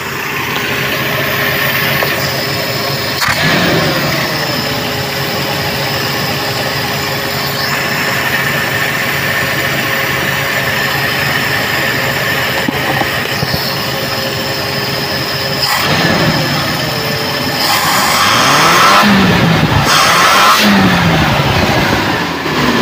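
A Toyota Kijang engine runs steadily after a carburetor service, a loud continuous droning idle with tonal whines that hold for most of the stretch, then a brief rise and sweeping pitch changes near the end.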